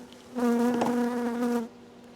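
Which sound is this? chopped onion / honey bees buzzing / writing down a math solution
honey bees buzzing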